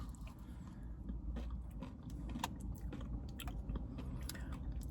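Someone eats a Wendy's vanilla Frosty with a crunchy add-in topping and caramel sauce, giving close, steady chewing and crunching throughout with small clicks of the spoon.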